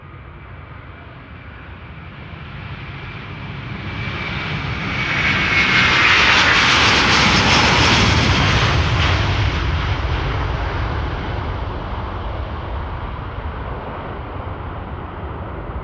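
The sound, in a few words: Delta Airlines Airbus A330-300 jet departing Schiphol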